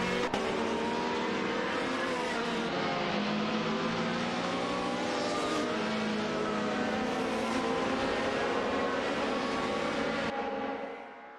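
AI-driven race cars in a racing game roar past in a continuous, loud engine drone, with shifting revving tones layered over each other for the whole stretch before tapering at the end.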